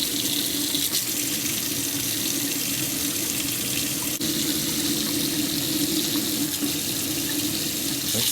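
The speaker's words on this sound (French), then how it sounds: "Tourne l'eau chaude." Hot water running steadily from a newly fitted kitchen mixer tap into the sink, a close, continuous loud rushing splash with no break.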